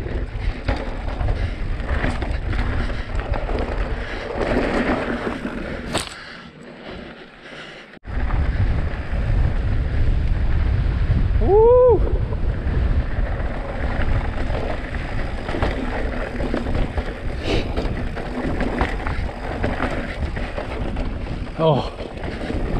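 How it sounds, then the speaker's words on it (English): Wind roars across a mountain bike trail near Richfield, Utah, a constant low rumble and buffeting on the microphone that drops away briefly and then returns, with people talking and a few short whistling tones mixed in. "Ooh, it's windy."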